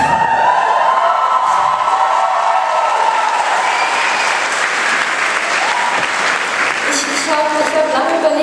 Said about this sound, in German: der Applaus hat gezeigt, es hat euch gefallen